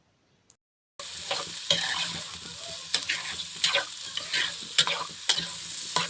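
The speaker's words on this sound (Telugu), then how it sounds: "ఆయిల్ హీట్ అయ్యాక మనం వడగట్టి పక్కన పెట్టుకున్న కాలీఫ్లవర్ పీసెస్ని బాగా ఫ్రై చేసుకోవాలి" Cauliflower pieces deep-frying in hot oil in a kadai for an Andhra-style pickle, a steady loud sizzle with repeated scrapes and stirring clatters, beginning abruptly after a brief silence and a single tap.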